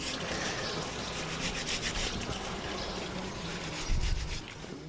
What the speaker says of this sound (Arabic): هيك نحن نفركه عشان يتفاعل مع المي